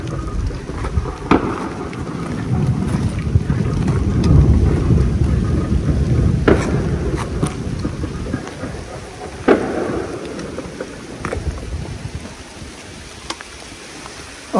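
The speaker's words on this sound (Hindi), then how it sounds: "और बारिश जोरों से शुरू हो गया अभी तो." Heavy rain with big drops pours steadily during a trek at Rayakottai fort near Shoolagiri, a dense roar of close, loud patter broken by a few sharper splashes, with no talking.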